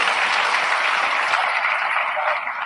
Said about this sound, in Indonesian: Tepuk tangan dong sekali lagi buat beliau ini.